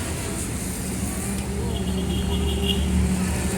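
A car pulls away from a CNG filling station after refuelling, its engine a steady, close hum with road rumble and no clear revving, heard alone throughout.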